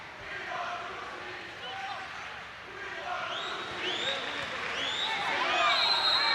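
A stadium crowd at a Baller League USA football match, Any Means United against Club 360, roars steadily throughout, swelling with whistles and shouts toward the end, while a commentator talks over it.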